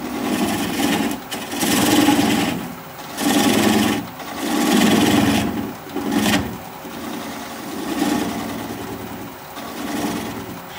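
An apple burl spins on a wood lathe while a bowl gouge cuts it, giving repeated rasping, scraping bursts of a second or two each over a steady motor hum, close and fairly loud, with brief lulls between passes.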